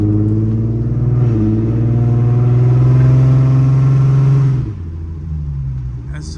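Infiniti G35 exhaust under way, a loud steady droning rumble that holds strong for about four and a half seconds, then drops to a quieter idle-like hum as the throttle eases off.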